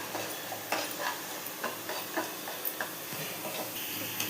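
Raisins and cashews fry in ghee for kesari bath, giving a faint, low sizzle broken by soft, fairly regular clicks as the pan is stirred.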